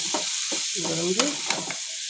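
Onion with green and red capsicum sautés in a pan with garlic and green chilli, a soft sizzle broken by a spatula's scrapes and stirring strokes, close and fairly quiet.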